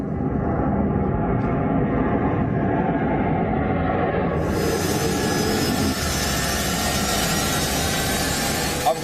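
A US Air Force airplane's jet engines roar loudly and continuously during takeoff, a dense broadband rumble that holds steady and brightens partway through.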